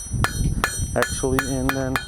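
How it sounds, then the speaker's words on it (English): A hammer strikes a hot metal kebab skewer on an anvil, sharp ringing clangs in a slow, uneven rhythm, about six blows, loud and close, with someone talking briefly between strikes. "we just keep forging until we get the desired length"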